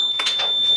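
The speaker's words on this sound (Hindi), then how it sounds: "ये हमारा अलार्म सिस्टम, बजर सिस्टम, इसका साउंड सुन सकते हैं आप।" A buzzer alarm on a school science project for preventing train accidents sounds as a continuous high-pitched electronic tone, loud and close, with soft handling noises beneath it.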